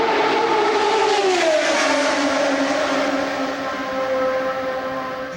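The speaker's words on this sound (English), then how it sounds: "I just love the cars zooming by" Race cars roar past one after another during Indy 500 time trials, a loud sustained engine drone whose pitch sweeps downward as each car passes and fades, with no talking.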